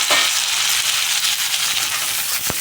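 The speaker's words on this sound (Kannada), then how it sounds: "ಅದನ್ನ ಫ್ರೈ ಮಾಡ್ಕೊಳ್ಳೋಣ." Tomato frying in a pan while making radish gravy, a steady close sizzle and hiss running throughout with a faint stir or scrape near the end.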